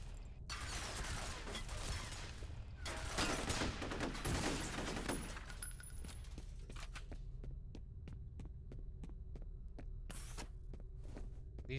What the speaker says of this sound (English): These machine guns are going to be a real pain in the ass.